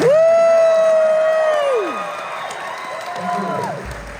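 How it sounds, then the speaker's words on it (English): A crowd applauds and cheers while a voice holds a long, loud whoop that drops off, followed by a second, shorter cry. "let's give these guys a round of applause."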